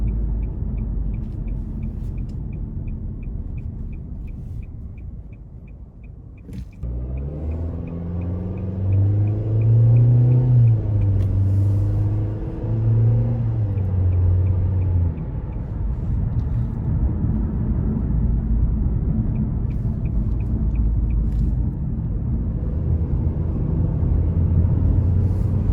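A 2021 Nissan Kicks SR driving on the road, with a steady low rumble of tires and engine that swells into a louder, rising engine drone midway before settling back to a constant cruising hum. No one speaks.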